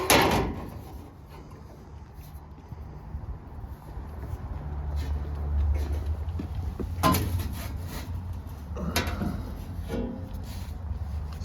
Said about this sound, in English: Old sprinkler room door.